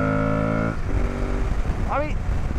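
An Aprilia Tuareg 660 motorcycle idles with a steady harmonic drone, then its engine note drops and rumbles as it pulls away, with a short rising whine near the end.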